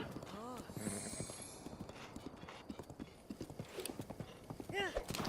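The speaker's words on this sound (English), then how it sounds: "I like Zelda's horse" Zelda's horse in The Legend of Zelda: Breath of the Wild gallops with steady close clip-clop hoofbeats, with a couple of neighs and whinnies at the start and end, under ongoing talk.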